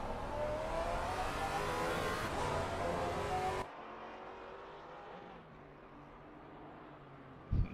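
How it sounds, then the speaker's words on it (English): Race car engine in a racing video game endurance event at Barcelona, revving hard then dropping sharply on a downshift, followed by a lower steady drone and a brief burst at the end. "Oh, sounds mean on the downshift"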